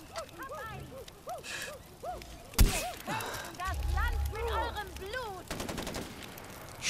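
Mounted gun fire in the video game Far Cry 4, sharp bursts of shots amid chaotic in-game effects and whistling sounds, with a player talking over the action.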